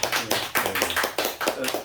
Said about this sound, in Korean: 다 같이 큰 박수 부탁드립니다.